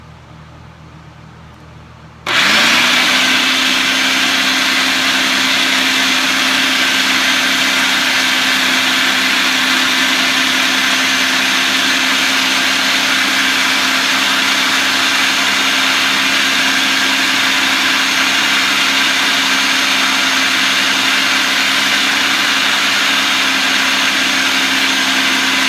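A Black & Decker blender mixing cashew mayonnaise starts abruptly after a short quiet moment, then runs as a loud, steady whirring drone that holds without a break.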